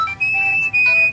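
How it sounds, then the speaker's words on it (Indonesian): A new mobile phone rings with a bright, steady electronic tone in two sustained bursts separated by a short gap, loud and close, with no talk over it. "Ternyata handphone baruku yang bunyi."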